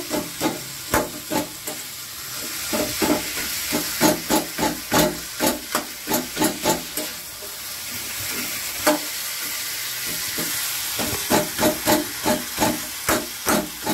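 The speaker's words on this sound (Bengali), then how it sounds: "এই মুসুরের মাথাগুলো দিয়ে দিলাম, দিয়ে দিচ্ছি ভালো করে" Spice paste frying with fish heads in a pan, meant for a dish with taro stolons, makes a loud hissing sizzle broken by rapid, rhythmic bursts of scraping and stirring, with a steady frying hiss between them.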